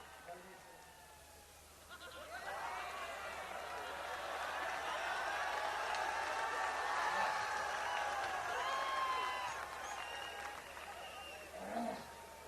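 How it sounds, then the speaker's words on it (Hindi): An audience at a Hindi comic poetry gathering applauds to welcome a poet, the clapping swelling and holding for several seconds with whistles and high calls mixed in, quiet and somewhat distant, then trailing off. "जोरदार तालियों से स्वागत कीजिए।"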